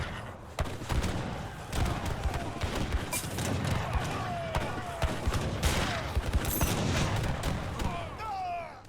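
Heavy cannons fire in a multiplayer strategy game match, a dense barrage of overlapping booms and thuds. Occasional whistling projectiles and battle effects sound over the continuous gunfire.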